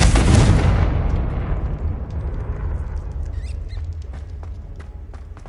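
A loud blasting spell explosion in Hogwarts Legacy opens with a sharp boom that decays into a long rumbling tail, followed by scattered faint clicks and small pops.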